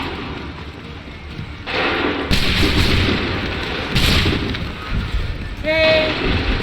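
A gunfire volley in Assassin's Creed 3, broad booming bursts of massed musket fire erupting and swelling over a noisy battlefield backdrop, loud and close, with a voice calling out during the shots.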